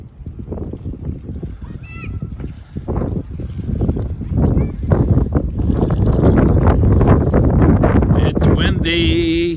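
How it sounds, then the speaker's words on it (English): Wind buffeting a microphone outdoors during a child's first bike ride, gusty rumble building louder after the first few seconds and staying strong, with people speaking briefly. "It's windy."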